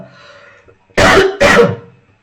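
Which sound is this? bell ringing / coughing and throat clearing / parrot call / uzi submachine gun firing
coughing and throat clearing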